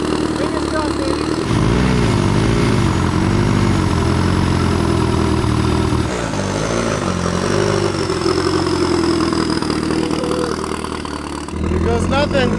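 A rebuilt engine with both a turbocharger and a supercharger idles with a loud, steady rumble and a faint rising whine, while a person talks over it.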